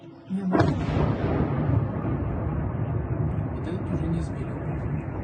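A large explosion bursts suddenly early on and then rumbles loudly and steadily, a distant drone strike blast heard without speech.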